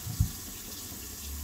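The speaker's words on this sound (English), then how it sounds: "first I need to get some room temperature water" A kitchen tap running room-temperature water for mixing caffenol film developer, a steady soft stream of flowing water with a small splash near the start.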